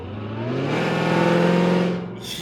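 A cammed 2023 Hellcat engine blares through a new exhaust with its valves open, a loud, brief surge of deep throaty roar that swells and then drops off sharply.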